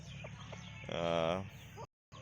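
A brief cluck from a hen with newly hatched chicks on a small farm rises once over a low, steady background murmur, then cuts to silence.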